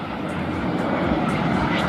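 A Zephyr aircraft engine at a flying display, a loud, steady airborne drone that stays even across the short stretch with no voices.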